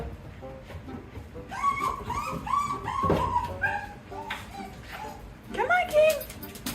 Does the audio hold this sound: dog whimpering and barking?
yes